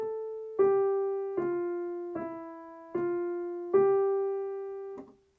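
Piano notes in a beginner sight-reading lesson are played smoothly and legato under one slur across two bars, with about seven connected tones in an even, unhurried line, close and clear with no talking.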